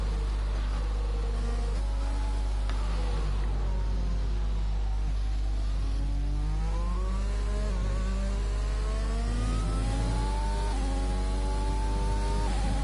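Onboard engine of a race car on a lap at a British circuit in a racing video game, a continuous loud buzzing whine rising and falling through gear changes, with a steady low rumble beneath.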